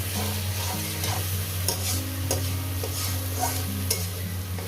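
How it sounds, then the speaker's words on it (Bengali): Fish and water spinach frying in a pan, a steady loud sizzle with scraping stirring strokes of a utensil throughout, close and without talk. "চার মিনিট ধরে ভেজে নেবো"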